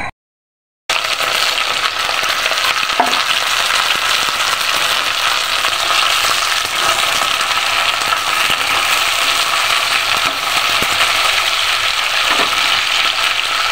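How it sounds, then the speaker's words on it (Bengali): Okra frying in oil in a frying pan, a steady, close, continuous sizzle with faint occasional clicks of stirring, no voices. "ভেন্ডিটাকে আমি এখন ভেজে নিচ্ছি"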